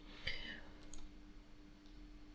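A computer mouse clicking on an icon in QGIS, one or two soft, brief clicks close by over a quiet background hum, no talking.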